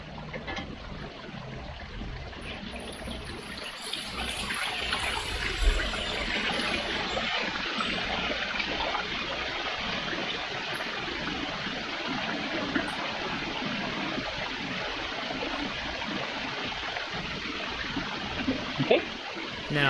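A backyard pond waterfall with an extra 2,000 gallons per hour of flow switched on pours as a constant, fairly quiet rushing wash of water. It holds steady for the whole stretch.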